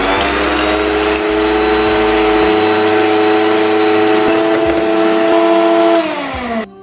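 An electric mixer whips egg whites for a sponge cake, a loud steady motor whine with a shifting pitch that drops as it stops near the end, close and without speech.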